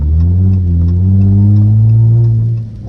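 A straight-piped Dodge Charger SXT roars loud and close as it revs hard through a corner, a deep sustained engine drone that swells and then drops off at the end.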